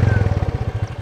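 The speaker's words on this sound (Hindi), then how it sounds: "2500 आरपीएम के ऊपर इंजन को रेव करेंगे तो माइलेज गिरेगा।" A Royal Enfield motorcycle engine thumps close by in a rapid, even rhythm of low pulses, a steady mechanical beat holding at a moderate rev for about a second.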